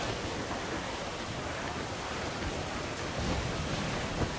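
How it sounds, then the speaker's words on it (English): A sailing ship ploughs through ocean waves in Assassin's Creed IV: Black Flag, a dense, continuous roar of surf and wind that stays steady and loud throughout, with no speech. "we are just punch bowling through these waves"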